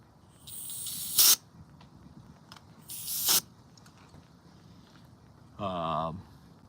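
Brake cleaner sprayed from an aerosol can in three separate hissing bursts, each about a second long, loud and close, with a voice briefly between the last ones.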